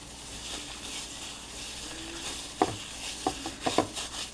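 Gloved hands mix homemade longganisa meat with spring onions. A quiet background hiss gives way to several wet, squelching presses and slaps close by near the end.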